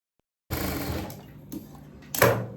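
Electric sewing machine stitching churidhar fabric in short bursts: a whirring run followed by brief pauses and a louder final burst, heard close.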